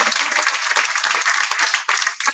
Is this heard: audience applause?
yes